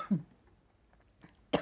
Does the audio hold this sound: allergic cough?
yes